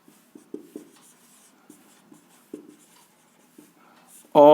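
Writing on a board during a math lesson makes a series of short, faint scratchy strokes at an uneven rhythm, and a voice starts speaking at the end.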